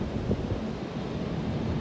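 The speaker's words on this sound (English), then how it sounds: "as you live on Hudson River, it's very windy here" Gusty wind buffets the microphone beside the Hudson River in New York City, a steady low rumble of wind noise that holds throughout with no talking.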